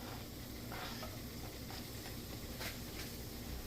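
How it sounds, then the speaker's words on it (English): Mushrooms dry sautéing in a pot without oil, a faint, even hiss and sizzle with a few soft stirring scrapes, quiet throughout with no voices. "we do a dry saute on the mushrooms because we want to get that excess moisture out of the mushrooms"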